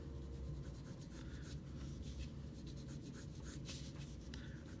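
A pencil drawing lines on paper for a car design sketch, close dry scratchy strokes in quick irregular bursts over a low room hum, no talk.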